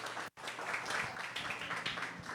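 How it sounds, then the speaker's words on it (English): Fairly faint, steady applause rises from the audience at a university afternoon forum session. A brief dropout interrupts it near the start. "Let's all give our warm round of applause to Dr. Leo Cobillan."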